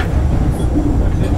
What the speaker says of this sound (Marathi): कोइंबतूर एक्सप्रेस आहे.